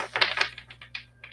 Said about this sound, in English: Gonna get a quick shuffle because it's live.